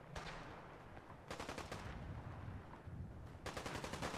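Rapid bursts of gunfire in the video game Fallout 4, loud automatic volleys starting and stopping over a steady background, with repeated rattling shots in separate clusters.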